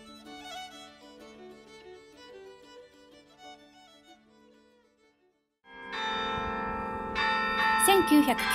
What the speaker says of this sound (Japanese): 1993年6月に設立された51個の鐘からなるカリオンは、重さがなんと13トンを超えているようです。